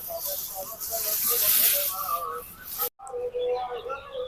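Fennel seeds, cumin and dried chillies dry-roasting in a hot pan, a steady hiss with light crackling for about three seconds, then a short break and softer crackles.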